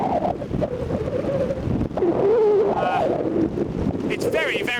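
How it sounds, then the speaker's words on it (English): Strong wind gusting across a microphone on a Pen y Fan mountain hike in Wales, a steady low roar and buffeting throughout, with brief whistling tones near the end. "it's very, very windy all of a sudden"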